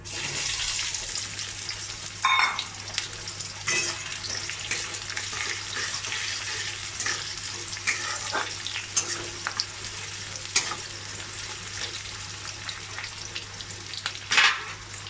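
Chopped onions fry in hot oil over a tempering of bay leaf, whole chilli and cumin, a steady close sizzle running throughout with occasional scrapes and clinks of stirring and brief louder bursts.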